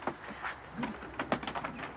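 A male homing pigeon from a breeding loft gives soft, low cooing calls, a few short murmured phrases close by with a brief faint voice.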